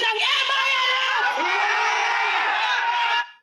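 A large crowd of protesters shouting slogans together in unison, a loud sustained roar of many voices for about three seconds before cutting off abruptly.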